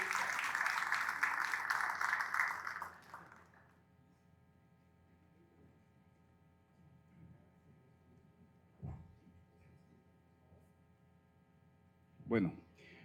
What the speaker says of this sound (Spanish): Un fuerte aplauso y damos inicio.